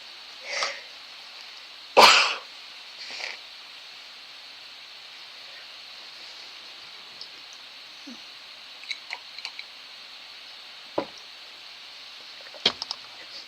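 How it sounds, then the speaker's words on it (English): A single loud, sharp sneeze close to the microphone, preceded and followed by softer breaths in an otherwise quiet room with faint background hiss. "I'm going to sneeze."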